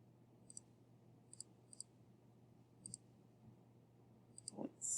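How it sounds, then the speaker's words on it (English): Numbers are punched into a calculator: faint, crisp key clicks come singly and in quick pairs at an uneven pace in a quiet room. "So we need to type that in our calculator."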